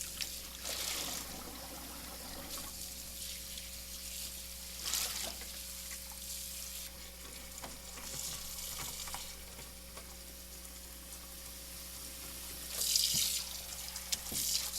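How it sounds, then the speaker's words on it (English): Tap water runs into a sink while dyed quilting fabric is rinsed, a steady faint hiss with soft splashes and occasional louder gushes and handling sounds, no voices. "until that water runs almost clear"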